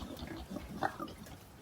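Piglets and a sow in a breeding pen, with faint grunting and a brief squeal over a low rustle of the animals moving nearby.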